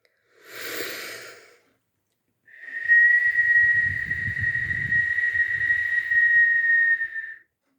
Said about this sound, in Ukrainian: складаємо губи трубочкою, видихаємо повітря і свистимо